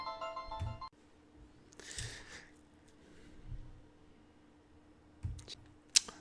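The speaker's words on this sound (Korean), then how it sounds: "중간에 전화가 와서 잠깐 멈췄었어요." A phone rings briefly at the very start of a recording, a short burst of ringtone tones that stops abruptly, followed by quiet room tone with scattered handling clicks and soft thumps.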